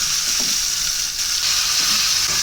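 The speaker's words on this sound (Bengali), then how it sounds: "খুব সুন্দর করে মাছের মাথাটাকে ভেজে নিচ্ছি, একটু কড়া কড়া করেই ভাজতে হবে।" A fish head fries in hot oil, crisping in a pan with a loud, close and continuous hiss of sizzling fat that holds steady throughout.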